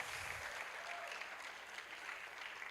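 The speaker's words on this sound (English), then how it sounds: "Please. Can you give him a round of applause?" Steady applause from a seminar audience at a university career event in Lagos, fairly faint and continuous for a few seconds with no talking over it.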